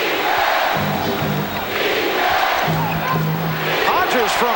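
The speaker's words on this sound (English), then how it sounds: "And again the crowd getting into it." A basketball arena crowd at the 1991 NBA Finals, Bulls against Lakers, roars loudly and steadily throughout, with a few rhythmic chant bursts and a commentator talking over the din.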